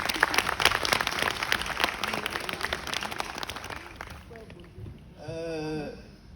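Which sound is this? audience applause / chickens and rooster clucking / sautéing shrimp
audience applause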